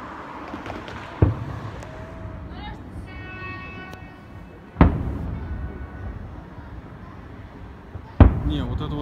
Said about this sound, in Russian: Вот это вот клевый салют.